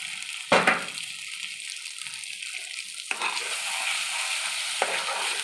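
Ground banana stem drops into a hot pan with turmeric and is stirred and fried, three sharp clatters of the spatula over a continuous sizzling hiss, no voices.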